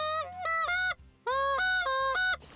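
A goose call is blown in short honking bursts that stay on one pitch without breaking over, loud and close, with two clusters of quick notes separated by a brief pause.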